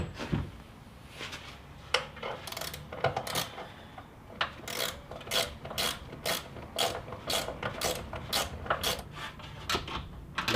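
A ratchet wrench clicks rapidly in quick bursts while bolts are snugged down on a stock rear bumper of a Jeep XJ, the close metallic pawl ticking repeating in steady rhythm after some brief handling noise.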